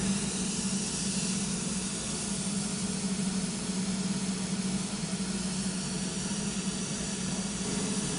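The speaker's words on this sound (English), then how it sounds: "In a minute, you'll hear the mist start coming through the system." Aeroseal sealant mist forced through a house's ductwork, a continuous broad hiss with a steady low drone beneath it, even and unbroken for several seconds with nobody speaking.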